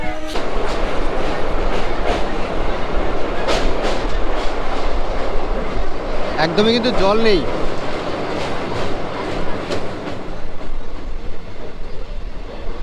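A passenger train runs steadily from Siliguri toward Lataguri through Dooars forest, a constant close rumble and rattle of wheels with a brief squeal midway; a voice speaks over it.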